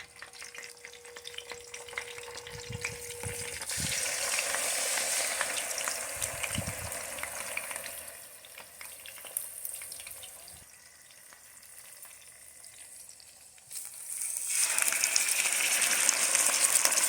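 Fish fries in hot oil in a home skillet, a dense, steady sizzle and crackle that swells louder near the end, close up with no voices.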